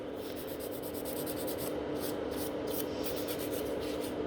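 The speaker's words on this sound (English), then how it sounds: "Also for thinning out the free edge, I'm on the grit 100," A 100-grit nail file thinning the free edge of a natural nail, with close, rapid rhythmic rasping strokes that are steady and fairly quiet, and no voices.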